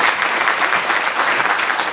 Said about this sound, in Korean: 새로운 반세기를 시작하시는 박상현 대표님께 다시 한번 박수 부탁드립니다.